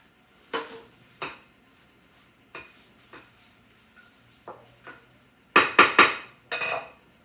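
Pastry being pressed flat in a pan, heard as a series of sharp metallic clanks and scrapes spaced out irregularly, ending in a louder cluster of close, rapid knocks.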